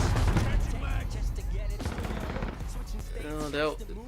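Shotgun and rifle fire in a multiplayer video game shooter, heard as dense, heavy bursts of blasts and impacts that crowd the whole clip, with a voice talking over the game sounds.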